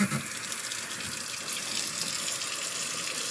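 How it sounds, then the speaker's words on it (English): Tap water runs steadily into a sink while boiled eggs are peeled under the stream, a constant close hiss and splash with no talk. "I do mine under running water"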